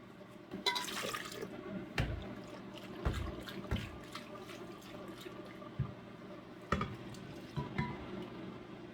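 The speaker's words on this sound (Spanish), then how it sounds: "Vamos a agregarle media taza de agua a esta jarra de la licuadora para que se vaya el exceso" Half a cup of water is poured into a blender jar to rinse out leftover red bell pepper sauce mixture, a steady trickle broken by knocks and clinks of the jar and utensils.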